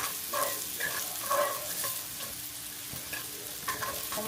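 Garlic frying in a pan, a soft continuous sizzle with a few brief clinks and stirring scrapes, no one speaking.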